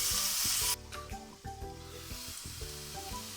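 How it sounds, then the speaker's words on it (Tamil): Onions sizzle in hot oil in a pan while hariyali chicken is being made. A loud burst opens the sound, then it settles into a steadier frying hiss with a few clinks of stirring. "நம்ம எடுத்து வச்சுருக்க வெங்காயத்தை ஆட் பண்ணிக்கலாம். இது கொஞ்சம் கலர் மாறட்டும்."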